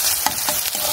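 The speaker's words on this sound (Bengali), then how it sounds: "এবার এখানে ভাতটা ভেজে নেবো" Cooked rice stir-fried in a pan with a little oil, fried potato and egg, giving a steady sizzle and scraping stir strokes that repeat about three times within a second.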